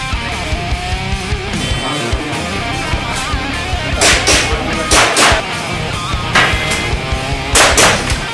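Airsoft guns firing at the HK Open 2012 shooting competition, sharp cracking shots in quick clusters of two or three, loud and close over a busy background of range noise.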